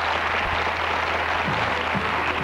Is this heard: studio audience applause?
yes